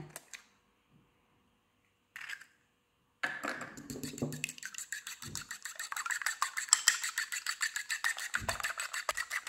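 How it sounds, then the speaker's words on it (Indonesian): Eggs beaten loose in a bowl for a sponge-style palm sugar moss pudding, heard as a fast, even run of light tapping strokes that starts after a few brief clicks and quiet pauses. "Telur kita kocok lepas ya teman-teman ya."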